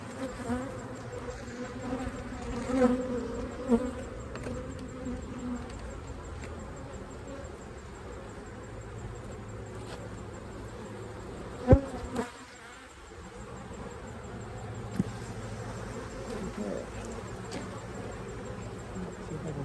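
Steady, low insect buzzing from many honey bees at an opened hive, a continuous hum with a few louder knocks and bumps close by.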